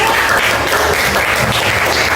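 Classroom applause in an Indonesian lesson, a loud, continuous patter of many hands clapping together, sustained evenly throughout without speech on top.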